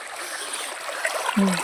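Water from a running pump motor gushes and splashes into a farm field, a continuous close trickling rush with a louder splash toward the end and no talking.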